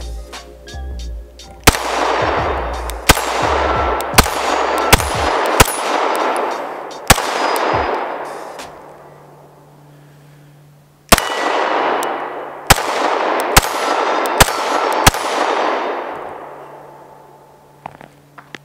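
An Agency Arms Syndicate S2 compact pistol fires over a dozen sharp, loud shots in uneven bursts, each crack followed by a short ringing tail, with a pause midway before firing resumes.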